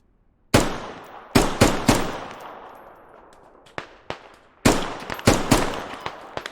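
Machine gun fire in a team shooter game scrim comes in loud close bursts of several rounds, separated by quieter gaps with fainter distant shots.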